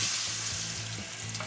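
NY strip steak sears in a garlic-topped pan of hot oil with a loud, continuous close-up sizzle, a low rhythmic thumping pulsing beneath it.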